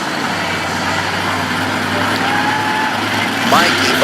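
The monster truck Overkill Evolution, with LED lights underneath, rumbles out at an arena event, a loud steady engine drone that swells slightly toward the end.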